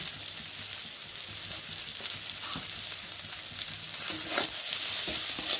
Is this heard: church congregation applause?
no